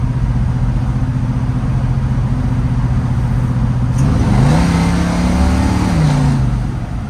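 A C10 truck engine with detonation problems idles loudly up close, then revs up for a couple of seconds before settling back to its rough idle, with no voices.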